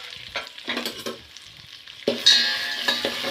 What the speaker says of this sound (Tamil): இப்போ நல்லா வதக்கிவிடணும்